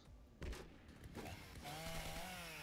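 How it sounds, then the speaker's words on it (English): A chainsaw in the video game Shadowrun Chronicles revs up and runs with a steady, buzzing whine that rises and holds, loud and close, with no talk over it. "There's a guy with a chainsaw right beside me."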